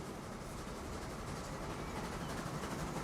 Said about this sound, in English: our steel train is now heading up towards Paris